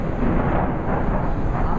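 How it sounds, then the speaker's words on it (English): A deep, continuous rumble fills the whole short stretch, heavy and rolling like distant thunder, with no voices. "it's the thunder that comes after the lightning"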